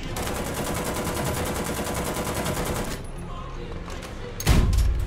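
Tank battle gunfire in the video game War Thunder: a long, loud, rapid rattle of automatic fire, a pause with faint ticks, then one heavy close cannon blast near the end.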